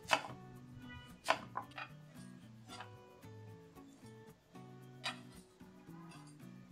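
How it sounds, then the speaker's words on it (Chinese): A knife slices through a small piece of peeled, seeded pumpkin on a cutting board, giving a few sharp chopping taps over soft background music. "先准备一小块南瓜，去皮，去籽以后再切成薄片"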